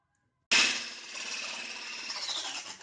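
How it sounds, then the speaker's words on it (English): An egg is whisked to a white foam for cake batter without oil, butter or baking powder. The whirring, scraping noise starts abruptly after a brief silence and then runs on steadily, close and fairly loud. "we should whisk this egg till it turns into a white foamy look and get the soft peak-like texture."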